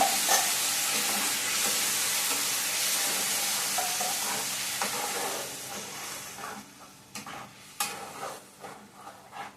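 Ground paste of tomato, onion, green chili, garlic and coriander leaves sizzles and fries steadily in a pan with stirring, a loud continuous hiss that gradually thins and softens toward the end.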